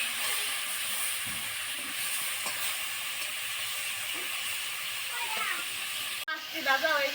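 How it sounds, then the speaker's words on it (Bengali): Fish frying in hot oil gives a steady, full sizzling hiss that runs almost the whole time, broken by a brief cut near the end. "মাছটি ভাজা হয়ে গেছে, আমি খাই নিব।"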